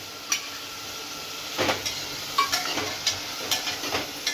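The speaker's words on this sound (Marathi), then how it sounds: "हे जे आपण मॅरिनेट केलेलं होतं पनीर ते आपण टाकतोय. आता थोडंसं फ्राय करून घ्यायचं आहे." Marinated paneer cubes frying in a hot pan, a soft continuous sizzle broken by light scraping and clinking as they are stirred every half second or so.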